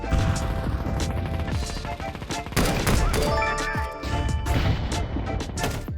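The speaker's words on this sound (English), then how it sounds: "The G3 SG1 is an automatic sniper rifle where you can hold the fire button down and shoot repeatedly." A G3SG1 automatic sniper rifle in Counter-Strike 2 fires repeatedly in quick, loud, evenly spaced shots, with metallic clinks of ejected casings between the cracks.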